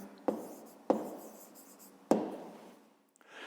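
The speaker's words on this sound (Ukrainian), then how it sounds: "Записуємо тоді відповідь." Pen strokes on paper as a math answer is written out in a fifth-grade arithmetic exercise, three sharp taps followed by soft scratching, close and quiet with no talk.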